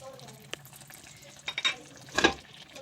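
Masoor dal being mixed with spices in a pot, a few faint spoon scrapes and soft clinks of metal over a low background, with one brief louder scrape near the end.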